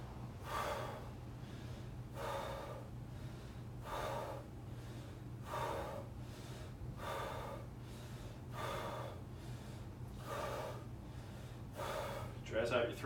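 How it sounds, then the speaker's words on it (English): Fast breaths pushed in and out through the mouth, about eight sharp, evenly spaced puffs, close and fairly loud over a steady low hum. "I'm going to try a little bit of fast breathing, just using my mouth."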